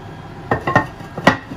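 A lid settles onto a terrine with a few separate clinks and knocks of ceramic and metal, close and fairly loud, spread over about a second.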